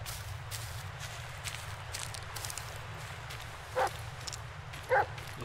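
Two short, fairly loud dog barks from the Blair Witch video game, spaced about a second apart, over a steady low ambient hum with faint rustling.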